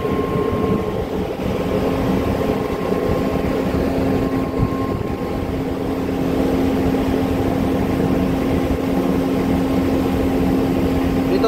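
Steady, loud engine drone of a helicopter flying close over a tug in the port of Buenaventura, Colombia, with a constant low mechanical hum and a thin tonal whine throughout and no talking.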